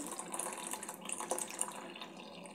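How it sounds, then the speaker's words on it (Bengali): Water is poured into a rice-flour batter paste for thin chakli pitha, a faint continuous trickling splash lasting a few seconds with no talk. "এখানে আমি পরিমাণ মতন জল যোগ করে দেব"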